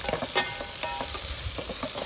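Spices tempering in hot oil in a pan at a night campsite make a steady, close crackling sizzle broken by sharp pops and stirring scrapes, with no talking.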